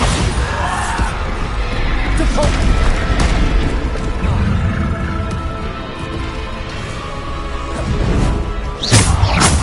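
Bombarda explosion spells in a Hogwarts video game: loud, dense booming blasts and crashing impacts with whooshes, a continuous heavy rumble and a sharper burst near the end, with some voice mixed in.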